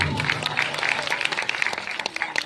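An audience claps through a comedy and poetry recital at a university event, a brisk, continuous patter of many hands close by, with faint voices beneath.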